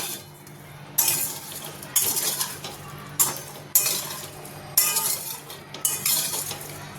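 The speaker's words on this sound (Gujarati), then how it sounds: "એકદમ બરાબર આપણે મુઠિયાને હલાવી લેવાના છે" Metal spoon stirs a bottle gourd muthiya mixture in a bowl, loud scraping clinks in repeated bursts about once a second, close up with no talk.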